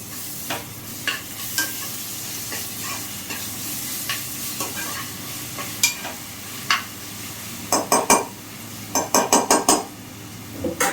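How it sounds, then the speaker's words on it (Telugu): Ginger-garlic paste frying in a pan for mutton curry, a continuous soft sizzle broken by sharp metallic clinks and scrapes of a spoon against the pan, coming in quick clusters toward the end. "అల్లం వెల్లుల్లిపై వేగిపోయింది"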